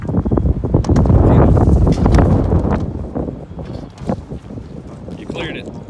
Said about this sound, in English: On a really, really windy day too.